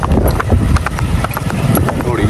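Several horses' hooves clip-clop in an irregular, overlapping rhythm close by, with someone talking over them among racing mares being checked before a race.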